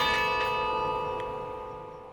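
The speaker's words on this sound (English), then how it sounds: "Carillon's a series of tuned bells." Carillon of tuned bells ringing high in the UT tower above the 27th floor, sustained overlapping tones with a couple of struck notes, loud and close and slowly fading over a steady ring.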